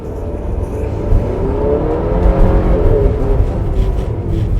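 A 2025 Buick Enclave Sport Touring SUV with a 2.5-liter turbocharged four-cylinder accelerates in a parking lot, its steady engine drone rising in pitch over a few seconds, close and fairly loud, with no talking.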